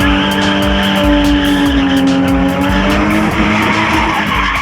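A BMW E30 spins in place, its engine revving hard under continuous, loud tire squeal, with rhythmic wavering as the car circles and no talk over it.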